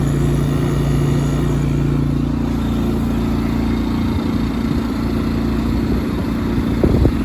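An air conditioner compressor kicks on outdoors during a power outage: a loud, steady mechanical drone with a low hum that settles into a constant running tone. No one speaks over it.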